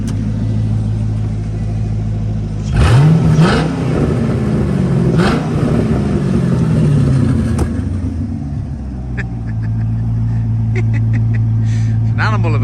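Holden Monaro VXR revving with its exhaust valves open, a loud throaty V8 rising in two or three sharp blips then settling to a deep idle burble, close by, with a voice talking over parts of it.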